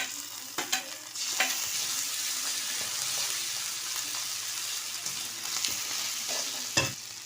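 Onion, tomato, garlic paste and ginger paste frying in a pan for a Bengali fish roe curry, a steady soft sizzle broken by several sharp scrapes and clinks of a spatula stirring the mixture.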